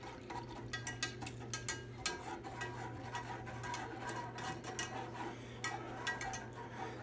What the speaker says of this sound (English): This is a Teflon pan, so I don't want to use this metal whisk too hard